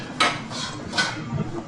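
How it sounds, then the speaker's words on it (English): Pots and pans bang around inside a building, a few sharp metallic clanks and clatters at uneven intervals, fairly close and loud, with no voices over them. "the sound of pots and pans banging around echoed"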